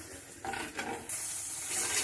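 Spice paste stir-fries in a pan, a quiet hissing sizzle with a few soft stirring scrapes, close but faint, then a brighter steady sizzle toward the end.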